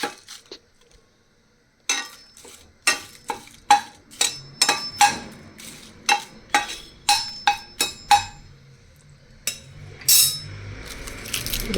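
Bay leaves being dry-roasted in a very hot kadhai, a spoon scraping and knocking against the metal in a series of about a dozen sharp, close clinks with brief pauses between them.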